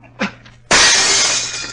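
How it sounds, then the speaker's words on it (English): A glass window smashed with a chair as a radio drama effect: one loud, close crash that breaks and rattles on with falling shards. A short faint knock comes before it. "Smash the glass with that chair."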